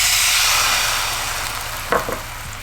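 Garlic sautés in a pan with a loud, steady sizzle that fades slightly, broken by a short clack of a utensil near the end, with no talking.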